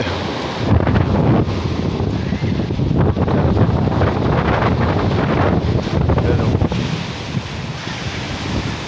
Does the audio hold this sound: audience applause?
no